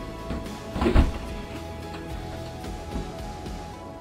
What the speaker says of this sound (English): Here, we close the door.